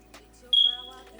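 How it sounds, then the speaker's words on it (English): A smoke detector with low batteries gives a single short, high, piercing chirp in a quiet room, with a faint voice murmuring softly around it. "Don't mind my little beeping. I have to get someone to come in here and change my batteries to my smoke detector."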